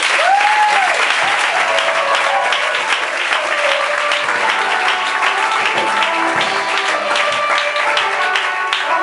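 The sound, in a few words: louder applause from the congregation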